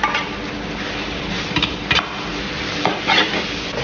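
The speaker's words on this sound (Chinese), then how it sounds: "再把这个瘦肉倒进去炒一下" Lean pork stir-fried in a wok with tomato and fermented black beans, steady sizzling under scraping spatula strokes that land every half second or so, close and moderately loud.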